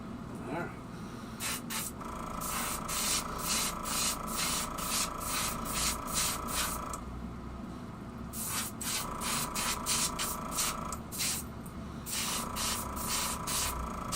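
An airbrush sprays metallic-flecked paint onto shallow-diving ultralight fishing lures, giving rapid short hissing bursts in two long runs separated by a brief pause, close and clear.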